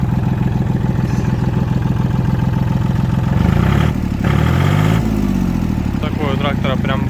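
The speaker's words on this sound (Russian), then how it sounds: "Такой у трактора прям бас-бас звук." An Iseki TA230 Japanese mini tractor, about 609 hours on the clock, idles steadily with a deep, bassy, even rumble close up, and a voice speaks over the engine.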